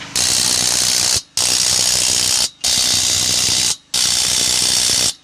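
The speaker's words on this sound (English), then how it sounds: "3/4 socket to put these fasteners on." A ratchet wrench with a 3/4 socket tightens trailer axle bolts on a camper's running gear. Four loud, continuous bursts of rapid clicking come close up, separated by short pauses.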